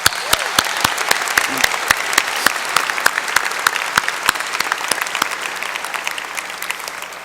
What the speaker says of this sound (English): let's give them all another round of applause